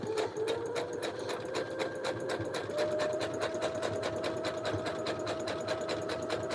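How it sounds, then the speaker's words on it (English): Sewing machine running steadily at speed, its needle hammering in a fast, even rhythm with a faint motor whine beneath, quiet and close, no talking. "if you can hear me over the sewing machine whenever I'm sewing with this"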